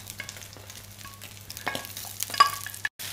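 Chinese cabbage stir-frying in a hot wok with sesame oil over high heat, a close crackling sizzle with intermittent scraping and tossing, cut by a brief drop to silence near the end.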